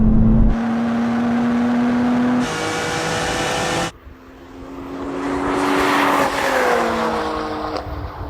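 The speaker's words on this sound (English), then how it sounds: "Yeah, I launched pretty good there. There was a lot of wheel spin." A race car launches hard off the start with heavy wheel spin, its engine roaring loud and close as tyres scrabble, then revving up again through the gears; no voices.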